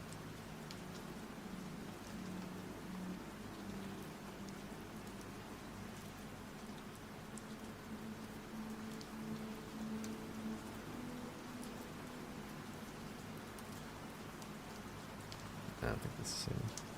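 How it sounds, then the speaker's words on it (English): Steady rain falls continuously as an even background hiss with faint patter, moderately quiet and unbroken, then a brief louder rustle near the end. "I love me some rain background noise."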